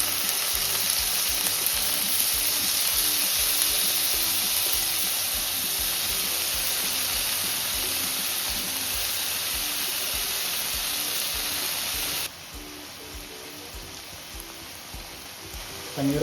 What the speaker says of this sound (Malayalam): പനീർ ഫ്രൈ ചെയ്യുന്ന സമയത്ത് ലോ ഫ്ലെയിമിൽ വെക്കുക